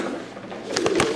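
A couple of soft pigeon coos sound close by over faint background noise.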